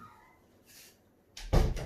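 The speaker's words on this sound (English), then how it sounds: "Let me shut the door." A door is pushed shut in a home craft workspace where resin pendants are made. A soft brushing movement comes first, then a solid, close thud as it closes.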